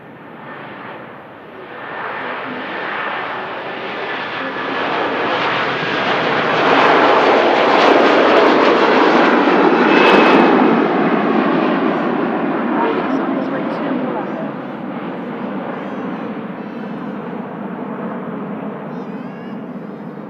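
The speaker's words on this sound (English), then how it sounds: "Virgin Atlantic 330 on the departure roll" A Virgin Atlantic Airbus A330 on its takeoff roll at Manchester Airport, a loud broad jet roar that swells to a peak midway and then slowly fades as it departs.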